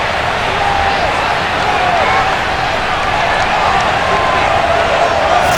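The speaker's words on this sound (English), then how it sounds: "a moment ago they entered to the delight of this sold-out crowd" Sold-out stadium crowd in Madden NFL 22 before a Bills versus Dolphins game, a steady, loud roar of cheering and murmur that holds unchanged throughout.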